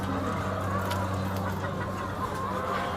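A flock of chickens on a poultry farm clucks steadily and close by, a busy overlapping chorus of clucks and murmurs with no talk over it.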